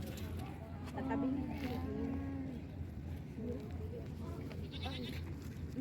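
Goats bleat on a farm in several short, wavering calls. Farm background noise runs steadily underneath, and people talk nearby throughout.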